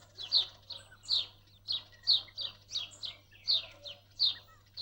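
Small birds gathered at a seasonal pond chirp in quick repeated bursts, several bright calls per second, a busy flock near and moderately loud over a low steady hum.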